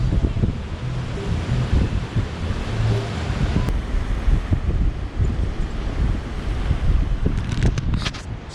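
Wind buffets the microphone on a beach at Tolu on Colombia's Atlantic coast. A steady low rumble of gusts runs throughout with faint surf beneath and a few higher clicks near the end.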